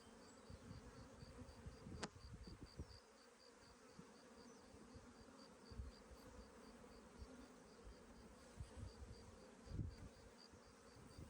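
Honeybees drone steadily around an open hive frame, a continuous close buzz with a few louder passes of individual bees near the listener and no voices.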